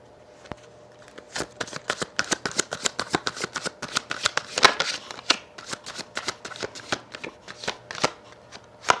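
Tarot cards being shuffled by hand, a steady run of crisp riffling and slapping bursts close up that carries on for the whole stretch, with only a faint room hum behind and no voices.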